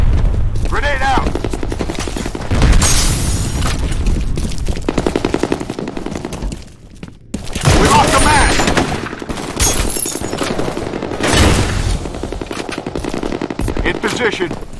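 Rapid bursts of automatic gunfire and heavy blasts, including a grenade explosion, in the first-person shooter F.E.A.R. Combat, loud and dense, with brief lulls between volleys and a voice talking at times.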